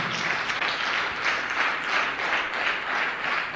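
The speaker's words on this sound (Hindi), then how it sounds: "इनके लिए जोरदार तालियां बजाइए आप" Steady, dense applause from a seated audience of roughly 150 to 200 people at a network marketing seminar, loud and unbroken throughout with no talk over it.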